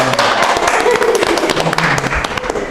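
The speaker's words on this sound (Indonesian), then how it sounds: "Tepuk tangan dulu dong untuk kita." A small group of people claps in a podcast studio, a short burst of close applause mixed with voices talking.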